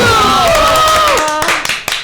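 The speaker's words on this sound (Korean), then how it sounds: "박수!" A short round of hand clapping from a small group fills the space of a podcast recording, following a sustained vocal tone and thinning out into a few scattered claps.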